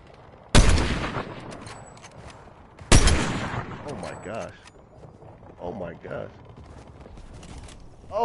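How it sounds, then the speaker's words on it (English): Gunfire in Fortnite aimed at a player who has just landed, with two sharp, loud broadband bursts a couple of seconds apart, followed by fainter scattered shots and clatter while someone talks. "this is probably Dub shooting at me now"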